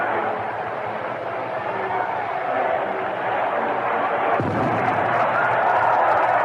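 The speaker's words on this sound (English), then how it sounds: "And somebody throws a firecracker out in center field," A firecracker goes off in center field at a Royals–White Sox baseball game, a single sharp bang around the middle of the clip rising above steady ballpark crowd noise.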